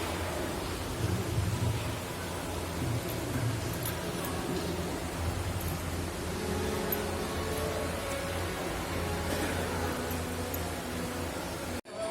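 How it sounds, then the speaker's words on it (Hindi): Steady, heavy rain falls outside a temple in Siliguri, a dense, constant wash of sound with low rumbles beneath it, close and unbroken for the whole stretch. "तो सडनली ऐसा ना बारिश होने लगा"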